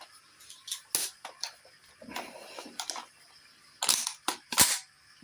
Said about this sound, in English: It sounds good when you cock that.